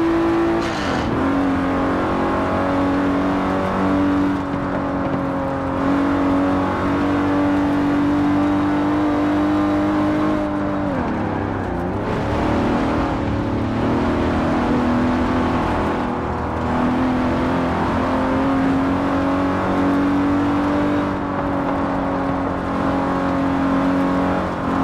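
Aston Martin DB5 Vantage, a 1960s grand tourer with side-draft carburettors, driven in Forza Horizon 4: a loud, steady engine drone runs throughout, its pitch dipping and rising with gear changes and shifts in revs.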